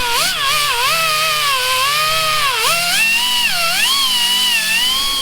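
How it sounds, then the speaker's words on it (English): A pneumatic angle grinder fitted with a wire wheel scours paint off metal brackets, giving a continuous high whine whose pitch dips and recovers as the wheel is pressed into the workpiece; no talking. "But I've got air tools and an angle grinder, so I'm gonna go at it with this."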